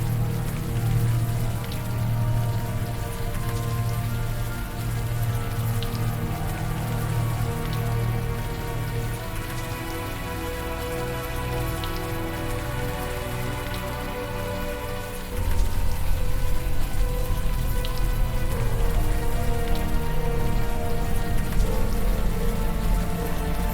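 Steady warm rain pours down in the video game Unavowed, a dense, even patter that continues throughout and grows noticeably louder partway through.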